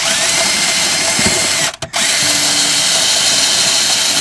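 A power drill bores into a Mercedes battery tray with a loud, continuous high whine, briefly cutting out for a moment near the middle before spinning back up steadily.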